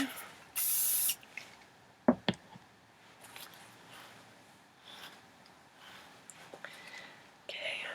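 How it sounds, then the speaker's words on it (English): A short, hissing burst of hairspray from an aerosol can while styling victory rolls, followed by quiet rustling and small handling clicks, with a second brief spray at the end. "I want to give it a bit of a spray."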